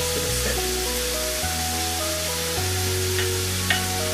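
Shrimp fry in a pan with a loud, steady sizzle, while a lower backing tone steps through changing notes underneath.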